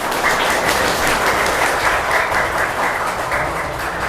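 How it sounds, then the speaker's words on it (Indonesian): Children and teachers at a Quran learning school (TPQ) applaud during a group game, a loud, steady, continuous patter of many hands clapping close by, with no speech over it. "Tepuk tangan."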